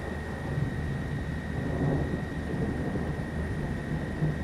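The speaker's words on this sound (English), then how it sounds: "Listen to that thunder." Thunder in the video game Train Sim World 6, heard during a snowy run on a ScotRail 158 train: a low, continuous rolling rumble that stays fairly loud throughout, with no talking.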